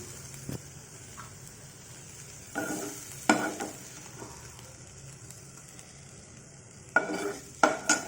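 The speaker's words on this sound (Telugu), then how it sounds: "పోపులో వెల్లుల్లిపాయలు ముక్కలు ముక్కలు చేసుకుని వేసుకున్న వాళ్ళు వేసుకున్నారు ఇదిగోండి వేగింది ఇప్పుడు దీన్ని మొత్తం తీసేస్తున్నాను" Chopped garlic fried in oil as tempering for an amla and ginger pickle is scooped out of the pan: a low sizzle with several bursts of spatula scraping and clinks, close by, with no speech.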